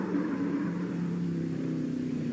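Stock cars race around the track at Charlotte during the 1974 World 600, a steady, droning engine roar passing at a distance with no break.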